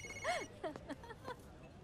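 A phone rings during a tense scene in the Hindi action film Baaghi 3, giving a short burst of bright, patterned electronic ringtone tones that repeat several times over a low background murmur.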